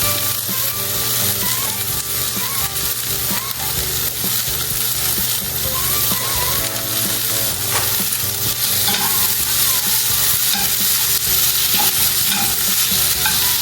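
Petite green peas stirred into a vegan creamy mushroom pie filling in a hot pan, with a steady loud sizzle and scraping stir running throughout.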